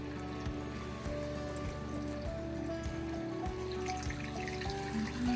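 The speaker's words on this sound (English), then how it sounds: "I'm going to add more water because I want to make sure that there's plenty of water to cover it." Purified water pours steadily into a jar of cucumbers for lime pickles, a continuous splashing stream over a low hum with faint regular clicks.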